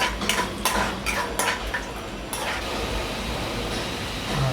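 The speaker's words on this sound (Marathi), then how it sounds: "शेंगदाणे चांगले झालेले आहेत फ्राय" Peanuts fry in oil in a pan as a spoon scrapes and clinks against the metal, irregular stirring strokes over a steady soft sizzle, close by with no talk.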